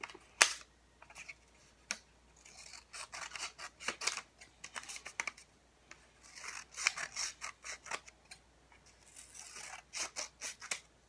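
Scissors trim paper for a handmade decorative frame in a long run of crisp, close snips and rustles, irregular bursts with brief pauses, no voices present.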